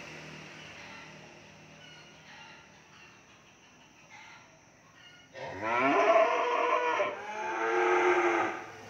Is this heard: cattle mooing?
yes